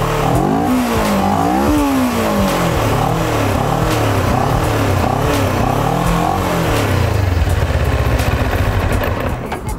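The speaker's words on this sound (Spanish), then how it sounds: "escuchemos su motor." A CFMoto 400 NK motorcycle engine is revved repeatedly, rising and falling in pitch, then settles into a loud rough idle.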